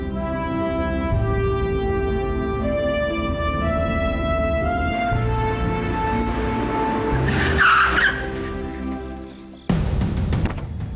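A car swinging round in a turn with its tyres skidding, a long steady engine and tyre screech that swells to a peak near the end, then cuts off abruptly.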